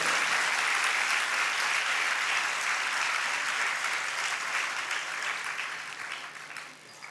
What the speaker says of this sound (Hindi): ये तालियां इतनी कम नहीं बजना चाहिए।